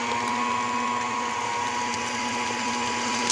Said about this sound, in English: with the mixer running, whisk 2 eggs together to add at the very end